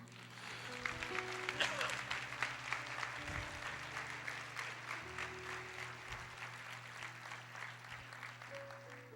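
Church congregation at a worship service applauds continuously, a dense wash of clapping that peaks early and holds steady, while sustained keyboard chords play softly beneath it.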